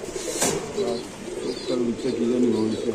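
Pigeons at a market stall coo in low, rolling calls repeated close by, with a sharp flutter or chirp early on and people talking in the background.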